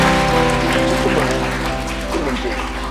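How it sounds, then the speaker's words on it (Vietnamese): A church congregation claps loudly and continuously, the applause blending with sustained music and voices throughout. "Hãy vỗ tay cảm tạ Chúa Giêsu."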